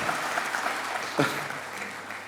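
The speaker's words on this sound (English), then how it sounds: "Well, yeah, you can clap yourself, of course. You deserve an applause there." Graduates and guests at a convocation ceremony in Mauritius applaud, a sustained even wash of many hands clapping throughout, with one louder clap standing out midway.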